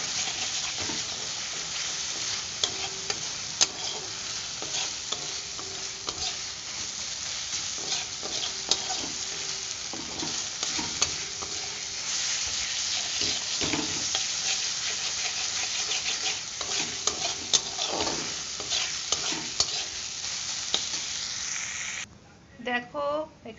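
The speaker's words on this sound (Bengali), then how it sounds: "এই মশলাটা দিয়ে আমি এখন কষাচ্ছি।" Spice paste is stir-fried with softened onions in a pan. A continuous close sizzle runs throughout, broken by frequent scraping and clattering of the stirring spoon, and cuts off abruptly near the end.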